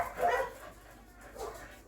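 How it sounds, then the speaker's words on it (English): Dogs barking outside behind a window at a rural home, two muffled, fairly distant bursts of barking with a quiet gap between, no one talking over them. "the dogs are going crazy, so sorry about that"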